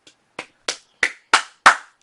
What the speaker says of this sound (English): everybody give Hammer a round of applause for that